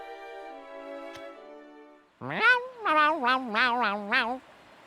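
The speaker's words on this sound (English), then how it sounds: "Is that a cat?" A cat in the Shadowverse video game meows twice in quick succession, a short rising cry followed by a longer wavering yowl, loud and close after a calm musical passage.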